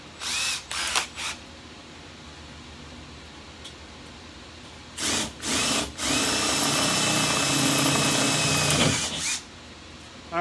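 An electric drill with a quarter-inch bit whirs in two short bursts, then runs steadily for several seconds before stopping, close and loud against a quiet room, drilling holes in a Weber Performer kettle grill bowl.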